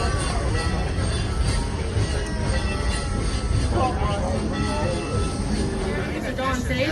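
A train standing at a station platform, with a loud, dense rumble and mechanical clatter filling the scene and a busy crowd-like wash over it.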